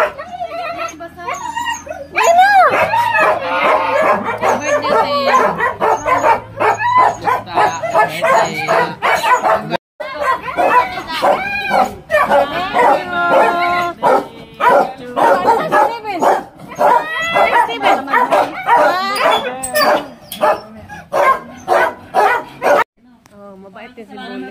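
A dog barks, yips and whimpers in quick repeated bursts at close range, mixed in with people chatting casually in Tagalog throughout.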